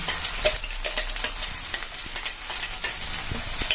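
Green chili and tomato paste sautéing in a pan, a bright steady sizzle with frequent scraping strokes of a spatula stirring, close and without voices.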